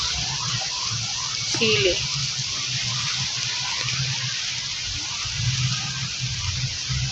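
Vinegar poured into a pan of adobo at a roadside home kitchen, a steady liquid pour running through the clip with a brief spoken word near the start.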